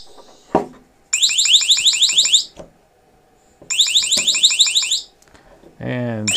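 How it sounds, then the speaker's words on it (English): Rapid chirping siren bursts from a NEXTORCH ND30 flashbang device, two long runs of fast, loud, piercing electronic chirps with gaps between, alongside clunks and a final rising tone. "9 of those flashes and 9 of the chirps, or the siren sounds"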